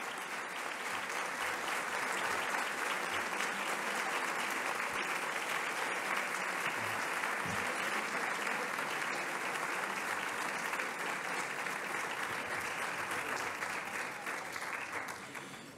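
A concert audience at a Santa Cecilia band performance in Guardamar gives a long, loud, steady round of applause welcoming new musicians, sustained clapping that holds for about fifteen seconds before easing slightly at the end.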